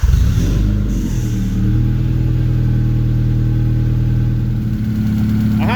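An Alfa Romeo 155 engine running steadily as it warms up after a battery swap, a loud, close, even idle with a low rumble and one slight rev near the start.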